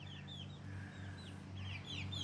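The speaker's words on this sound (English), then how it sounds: "this is the chickens" Chickens clucking close by in short, repeated bursts over a steady low background hum, with no talking.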